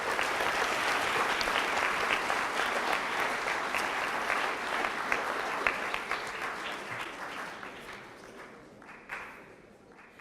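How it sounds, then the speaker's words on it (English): Audience applause for the student debaters at a school debate final and prize giving, dense steady clapping for about ten seconds that thins and tapers toward the end. "a hearty round of applause for all our debaters"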